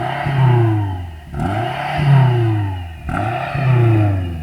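A BMW M5 engine is revved three times in quick succession, each rise climbing to a strong, close howl before dropping back toward idle, with no talking over it.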